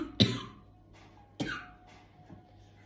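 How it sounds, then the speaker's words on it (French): Two sharp coughs about a second apart, close and fairly loud, with a faint third one trailing after; no talking. "je tousse un petit peu."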